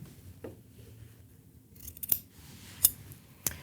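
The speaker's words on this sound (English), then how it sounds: "I'm going to take my scissors and trim off this extra little bit" Scissors snip quilt binding fabric in three or four quiet, close, crisp cuts spaced under a second apart, after a soft rustle of handling.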